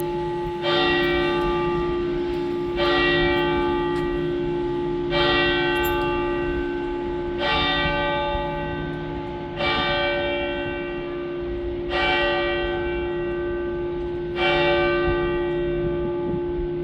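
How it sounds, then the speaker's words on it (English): Church bells ringing in Sydney, a slow, evenly spaced series of seven resonant strikes about every two seconds, each ringing on with a steady hum beneath, heard from a distance at moderate volume with no talk. "Love listening to church bells."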